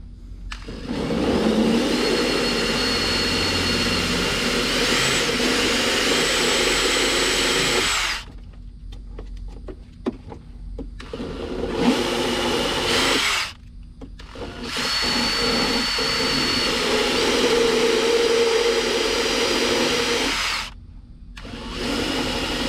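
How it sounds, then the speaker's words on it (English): A Dremel rotary tool cuts a part on a Jeep XJ, its high-pitched whine running steadily for several seconds, stopping, restarting in shorter bursts, then a long final run, loud and close. "let's go get the little Dremel bit, cut this out right here, and see if it all fits"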